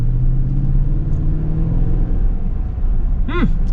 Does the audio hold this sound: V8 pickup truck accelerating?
yes